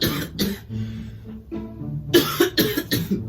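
A deliberate fake cough performed as a prank, a few harsh close bursts at the start and a rapid cluster of loud coughs near the end, with a breathy pause between.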